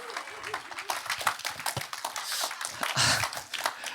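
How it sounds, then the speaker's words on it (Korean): Church congregation welcoming a visiting pastor with applause, scattered irregular clapping from a moderate-sized crowd, uneven in loudness and swelling near the end, with some voices and movement noise underneath. "목사님 보내주신 하나님께 감사의 박수 올려드리겠습니다."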